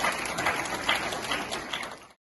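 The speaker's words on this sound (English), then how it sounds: "let's give them the round of applause" An audience at a Pakistani community event in the United States breaks into steady, sustained applause, with many hands clapping at moderate volume for about two seconds before it cuts off.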